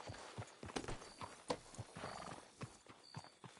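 A horse in Red Dead Redemption 2 whinnies amid steady clip-clop hoofbeats, its nearby footfalls thudding in an uneven rhythm across a few seconds of quiet game ambience.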